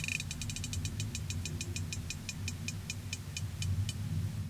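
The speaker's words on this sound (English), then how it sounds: "That was a herring farting, making that noise." A herring's fart recorded underwater by a hydrophone comes through as a rapid series of high, sharp ticks, fast at first and then slowing into a steady pulse over a constant low rumble of water noise.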